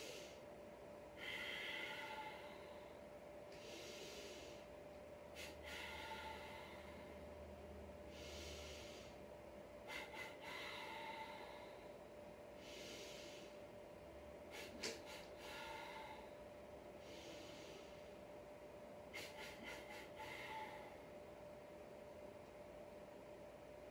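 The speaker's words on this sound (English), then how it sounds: "So it's gonna be 1 inhale and then 1 exhale." Paced breathing drill: a series of audible breath bursts, inhales and exhales in short spaced groups, repeating steadily over a faint constant hum, with no talking.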